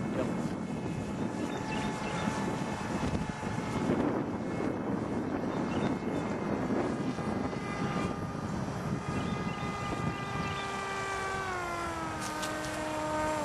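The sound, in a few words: RC model F-117 aircraft flying with propeller motor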